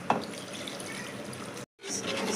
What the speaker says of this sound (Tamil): இப்போது இந்த மட்டன் வேக வச்சு தண்ணி இருக்குல்ல, அதை ஊற்ற போகிறோம்.